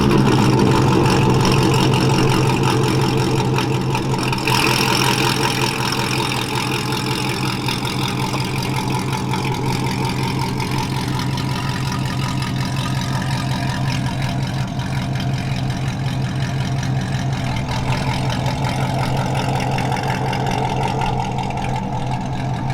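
A 2015 Corvette with a freshly installed engine, transmission and torque tube runs steadily before a road test, a loud, even idle rumble close by that holds for over twenty seconds with only slight variation and no talking.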